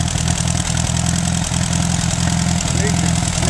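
An Allis Chalmers B tractor engine idles steadily with a slight sputter, its poor carburetor making a continuous low, loud pulsing rumble with small irregular hiccups throughout.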